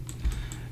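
A brief burst of a few computer key presses and a click while working in Blender 3D modeling software, short and close with no talking.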